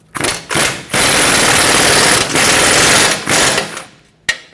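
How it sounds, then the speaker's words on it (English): Impact or power tool driving an 18mm socket onto a shock mounting nut on a 2003-2012 Chevrolet Colorado 4x4 suspension, a loud, dense buzzing whir in several bursts with short pauses, close up. "Let's reinstall the shock mounting nut. Use that 18mm socket to tighten it up."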